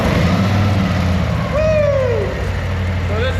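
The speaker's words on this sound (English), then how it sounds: "So this is the stock exhaust, stock air filter." A 2024 Harley-Davidson Road Glide with stock exhaust and stock air filter, about 1,500 miles on it, runs close by with a steady, deep rumble. Rising and falling whines pass over it.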